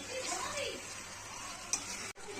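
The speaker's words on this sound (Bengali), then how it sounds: "পেস্টটা দিয়ে দেবো। দিয়ে আমি ভালো করে নেড়ে নেবো।" Chicken curry being stirred with spice paste in a pan, a soft continuous sizzle with spoon scraping against the pan, fairly close and steady, then a brief pause near the end before the stirring resumes.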